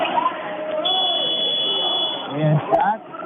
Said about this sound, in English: I just heard the shot clock buzzer.